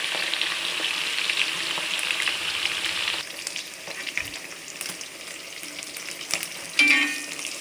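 Mackerel tuna pieces fry in hot oil for Minang-style balado, giving a steady, dense sizzle throughout with a few soft stirring clatters and a brief louder crackle near the end; no one speaks.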